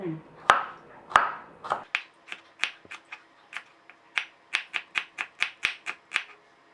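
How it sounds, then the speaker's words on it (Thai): A knife slices shallots on a cutting board in a home kitchen, a string of crisp, close taps that speed into a steady quick rhythm, with a brief bit of talk at the start. "แล้วก็ซอย ไม่ต้องบางมาก เนี่ยค่ะ หอมแดงก็เช่นกัน"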